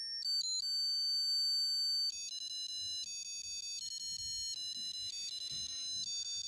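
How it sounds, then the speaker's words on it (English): A 1981 Zeon 007 James Bond digital wristwatch sounds its alarm: a thin, piercing electronic beep tune shifting between pitches in steady steps, close and clear, with faint handling noise underneath. "That's the alarm."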